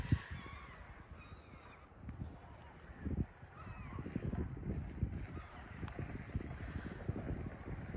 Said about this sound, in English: I know you hate birds.